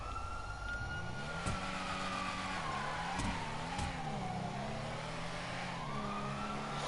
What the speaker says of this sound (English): Wow, that is a good sound. That's a nice noise.